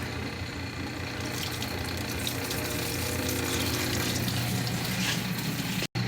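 Soapy water drains steadily out of an antique electric washing machine, a continuous broadband rushing and gurgling wash with a low pump-like hum underneath, fairly loud and unbroken until a brief dropout near the end.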